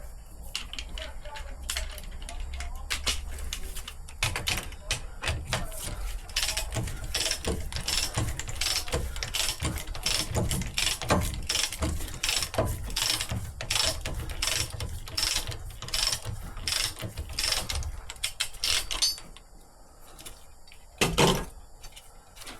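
A ratchet loosens a tight, thread-locked pinion flange nut on a Land Rover Defender TD5 rear differential, giving a long run of rapid, close metallic clicks that stops near the end, followed by a couple of clanks.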